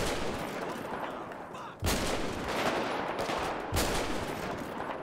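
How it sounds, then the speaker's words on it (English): Enemy gunfire in GTA 5 zombie apocalypse mode, a steady dense crackle of shots with two sharper, louder bursts standing out, close and continuous with no talk over it. "Oh, they're shooting me."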